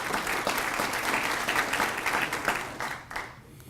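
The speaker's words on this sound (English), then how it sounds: "give her a round of applause" Audience applause at a city State of the City address, a dense wash of many hands clapping at steady loudness that tapers off toward the end.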